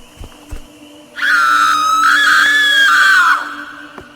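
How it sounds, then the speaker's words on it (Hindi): A loud, sustained high-pitched scream from an old woman, lasting about two seconds, rising abruptly out of near silence after a couple of soft thumps. "कुछ दूर जाने पर बूढ़ी औरत की चीख सुनाई देती है।"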